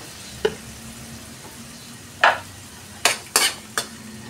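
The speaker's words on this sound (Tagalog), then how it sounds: "Igisa lang natin ito guys." Bean sprouts sautéed with soy sauce in a pan make a low background sizzle, broken by a few sharp utensil scrapes and clanks against the pan, close and intermittent.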